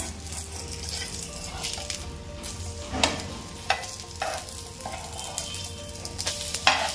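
Taro leaf alu vadi shallow fry in oil in a pan, giving a steady soft sizzle with occasional sharp clinks and scrapes of a utensil turning the pieces, close up and fairly quiet, with no speech.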